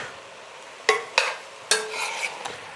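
A spoon scrapes and knocks against a pot while crushed tomatoes are stirred into a Bolognese sauce, a few distinct clacks and wet swishes over a low steady background.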